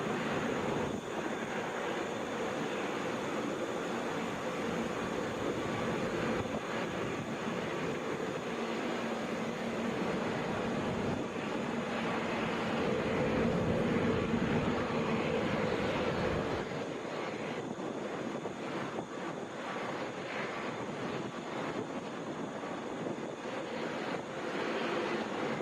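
A Delta Airbus A321 airliner at Atlanta airport, its jet engines a faint, distant, steady roar with wind-like hiss that swells slightly midway and then settles.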